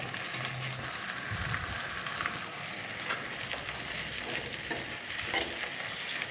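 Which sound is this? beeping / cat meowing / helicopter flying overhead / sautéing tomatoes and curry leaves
sautéing tomatoes and curry leaves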